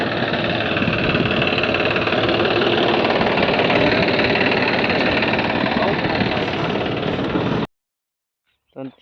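A tractor with a trolley and rotavator attached runs at a steady, loud, rumbling idle close by, then cuts off abruptly near the end, leaving near silence.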